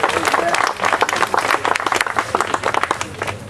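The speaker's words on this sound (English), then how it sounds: "Let's give her a round of applause." Church congregation applauding, a lively burst of many hands clapping with some voices and cheers mixed in, fading slightly toward the end.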